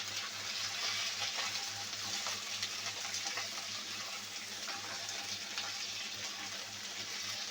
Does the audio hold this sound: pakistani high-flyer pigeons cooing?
no